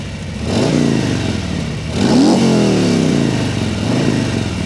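A 2023 Harley-Davidson Road Glide Special starts and revs nearby, its loud V-twin engine rumbling and rising in two or three throttle blips over a steady, throbbing idle.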